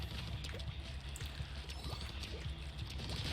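Squid swimming through ink in the Splatoon video game, a soft continuous watery swishing and burbling with faint splashy ticks, steady and quiet throughout.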